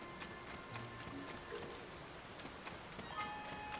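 Steady rain falls across the open world of The Legend of Zelda: Tears of the Kingdom, a dense, even hiss of droplets that continues evenly throughout, with faint game sound effects chiming over it and no talking.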